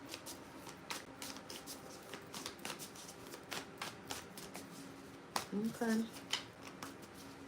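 Tarot cards being shuffled, a run of quick crisp riffling and flicking bursts close up, with a brief spoken word near the end.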